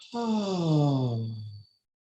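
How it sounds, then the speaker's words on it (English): A long, voiced out-breath during a guided deep breathing exercise, a single sigh-like exhale that swells, holds and fades out, followed by silence. "And breathing out."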